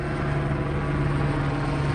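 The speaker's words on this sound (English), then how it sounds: "the helicopter still keeps doing circles" Police helicopter circling overhead during a pursuit in Irvine, Orange County, California: a loud, continuous rotor and engine roar with a steady low hum, no voices.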